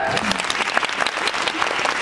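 Audience applause at a live rock and roll show in a theme park, Universal Studios Japan, a dense steady clapping crowd close by with scattered louder claps throughout.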